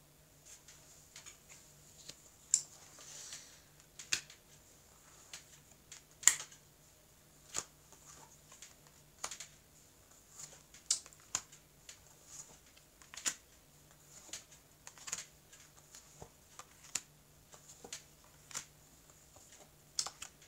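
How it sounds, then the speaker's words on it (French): A deck of playing cards being cut and squared back together, giving a steady run of soft, sharp card clicks and riffles, close and quiet, with no voices. "On va couper les cartes et on va recouvrir le jeu."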